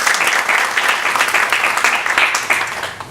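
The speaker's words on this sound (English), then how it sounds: "So applaud for Mr. Megdi Aziz." Dense, loud audience applause greets a speaker at a 2018 entrepreneurship panel in Washington, DC, an even wash of many hands clapping that holds steady before easing slightly at the end.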